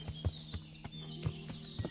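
Horse hooves clip-clop in an even walking rhythm, close and distinct, with a faint tonal hum beneath, from riding in Kingdom Come: Deliverance.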